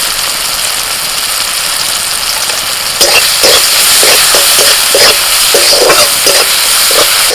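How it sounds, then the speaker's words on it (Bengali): Ground spices, including turmeric and cumin powder with salt, fry in a pan with a continuous close sizzle, joined midway by rhythmic scraping of a stirring spoon against the pan, with no talking. "মশলাটা একটু ভাজা ভাজা করে নিয়ে দিয়ে দিচ্ছি"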